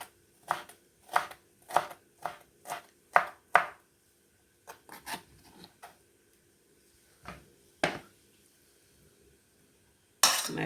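Sharp, rhythmic knocks on a cutting board as garlic is smashed for Jamaican chicken foot pumpkin soup, a quick series of hits followed by a few scattered blows and pauses.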